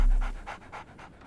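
A dog in the video game Sherlock Holmes The Awakened pants in quick rhythmic huffs, about five breaths close up, with no talk over it.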